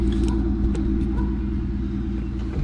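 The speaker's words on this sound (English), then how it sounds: "The throttle stuck open on it or something after that." A 1968 Mercury Cougar engine with its throttle stuck open after losing its return spring roars in a loud, steady, close rumble with no break.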